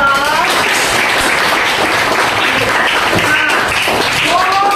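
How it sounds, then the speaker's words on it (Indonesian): A class applauds with steady, dense clapping that stays loud throughout, joined by a few cheers and taps. "Give applause for us."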